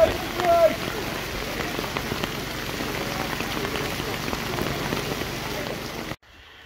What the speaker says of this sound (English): Still raining quite hard